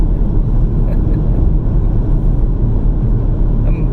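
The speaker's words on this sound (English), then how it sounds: "I'm driving back to Oklahoma City now." Inside a car driving along the road to Oklahoma City, a loud, steady low rumble of engine and road noise runs unbroken with no clear voices on top.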